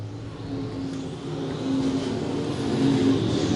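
Late model race cars at I-35 Speedway roar past in a steady, loud engine drone that swells as the pack comes by near the end of the race, with no voices over it.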